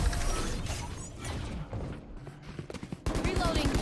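Weapon reload in Valorant: a run of close mechanical clicks and ratcheting clatter, with sharp bursts at the start and end, heard amid game noise and voices.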